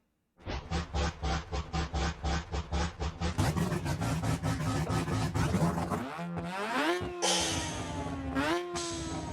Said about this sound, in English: now you can hear the actual sound of the engine